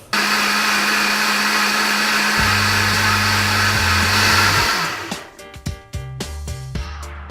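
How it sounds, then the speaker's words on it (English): A blender blending frozen food with water roars loudly and steadily, its motor pitch dropping as it churns, then winds down and sputters in uneven bursts before stopping. "I will empty the bags into a blender, add water, and blend it"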